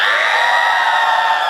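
A crowd at a Bob The Drag Queen live drag comedy show in Perth cheers loudly on cue, a dense sustained roar of whoops and shouts holding steady for its full length with no talk over it.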